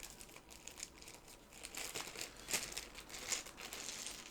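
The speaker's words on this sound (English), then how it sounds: "If I just remove them from their baggie" Dice being taken out of a thin plastic baggie at a tabletop, continuous soft crinkling with a few sharper rustles and small clicks, close and quiet.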